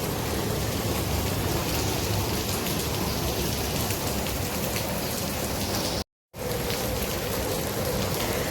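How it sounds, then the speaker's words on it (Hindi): Sudden heavy rain pours down in a thick, even roar of drops close by, steady and loud, broken once by a brief cut of silence before it resumes, with no voices. "आज तो कोई उम्मीद ही नहीं थी कि बारिश होगी, लेकिन बहुत तेज पानी आना शुरू हो गया अचानक से ही"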